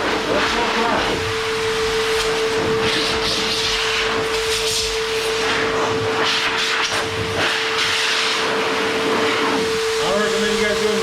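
An Adams Air Cannon blower dries a car with a loud, steady rushing whoosh of air and a constant motor whine, heard up close and unbroken throughout.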